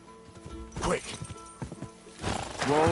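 Horse in Kingdom Come: Deliverance 2 whinnying loudly near the end amid clip-clopping hooves and game sounds, with a voice talking over parts of it.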